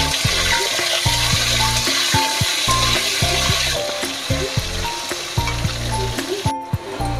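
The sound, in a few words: potatoes frying in a pan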